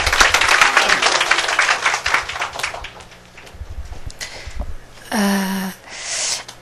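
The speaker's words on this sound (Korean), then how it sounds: "박수 한번 해주시기 바랍니다" An audience at a Korean church pre-camp lecture applauds a guest speaker, a dense burst of clapping that tapers off over a few seconds before a lone voice and a short tonal sound follow.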